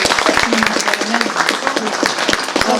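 An audience claps steadily, a dense burst of applause that carries through the whole moment, with a voice speaking over it, at a film presentation event.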